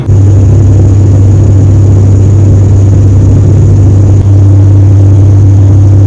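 An airliner's propeller engine spinning up on a Bangalore to Hyderabad flight, heard from inside the cabin as a loud, steady low drone with a constant hum and whir that holds for several seconds.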